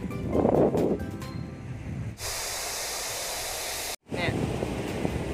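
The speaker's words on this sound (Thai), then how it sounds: "ลมแรงนะครับ" Strong wind blows across a seaside park in Songkhla, Thailand, a steady rushing hiss with gusts battering the microphone, briefly cutting out once, while voices talk at the start.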